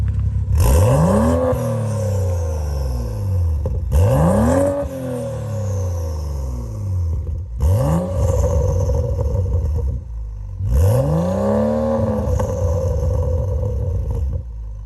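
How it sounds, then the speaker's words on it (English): A 400 hp BMW 335i (F30) with a modified HKS exhaust revs hard four times, each loud burst climbing in pitch then falling back, with brief pauses between. "And in the back, you got this modded Hks exhaust, which sounds"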